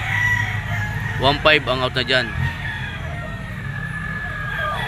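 A rooster crows once in a drawn-out, wavering call amid the busy murmur of a crowded pet chicken market at a grotto, with someone talking nearby before and during the crow.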